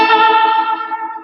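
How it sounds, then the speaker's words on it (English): An electric guitar played through a Vox AC30 amp with a heavy echo effect rings out as a single loud, sustained chord that slowly decays with a shimmering, repeating tail. "It's almost like a out of control kind of echoey kind of"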